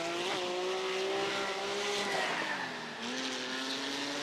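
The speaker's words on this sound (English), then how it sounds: "Oh, they're hitting each other. Oh, they're wrecking." Race cars collide and wreck in the iRacing Arcade video game, with steady loud engine whine and squealing tires shifting in pitch as cars skid and crash. No one talks.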